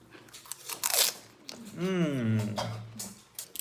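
Homemade pani puri gets bitten and chewed, with a few sharp crisp crunches up close between bursts of talk from people eating.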